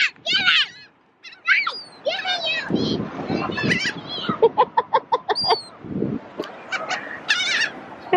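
Chickens cluck and squawk near a sandy beach as a storm approaches, with short repeated clucking bursts and a sharp call, interleaved with people talking close by.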